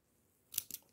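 Scissors cut paper yarn for a crochet bag with two quick, crisp snips close by, heard alone in a quiet room.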